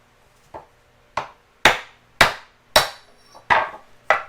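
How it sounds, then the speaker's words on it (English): A hammer strikes seven times, sharp and close, driving an old bearing out of a Land Cruiser 100 series tensioner pulley set on two pieces of wood, each knock ringing briefly before the next, the blows growing louder after a light first tap. "I've been hammering on it"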